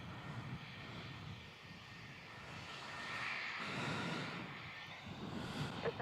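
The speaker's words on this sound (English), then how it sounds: "Qantas 430 there, cleared for takeoff from 34" Qantas airliner taking off from runway 34 at Melbourne Airport, a distant, faint jet roar that swells and fades steadily without any talking.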